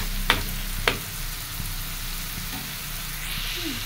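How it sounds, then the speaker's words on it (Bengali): Radish frying in a pan with onion, garlic, tomato and green chili, giving a steady close sizzle with a couple of sharp clinks of a spoon at the start. "তারপর পেঁয়াজ, রসুন, টমেটো, কাঁচামরিচ, এইগুলো দিয়ে এখন মূলাটা ভাজি করব"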